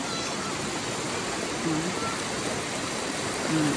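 A river stream at a nature campsite flows in a steady broadband rush, close and constant, with a faint voice briefly audible beneath the water.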